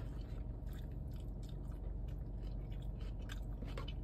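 Close-up chewing of kimchi fries topped with spicy pork, soft wet mastication with small crunchy bites repeating over a low steady background hum, no talk.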